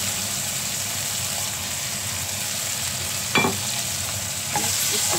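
Tomatoes fry in a pan with a continuous sizzling hiss, broken by two short clattering bursts as shrimp are tipped in and stirred, with the frying growing slightly louder afterward.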